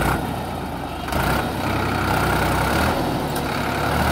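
A Sonalika DI 50 DLX 24-speed tractor pulls a laser land leveler through soil in top gear, its heavy diesel engine droning steadily and loudly under load with slight shifts in pitch.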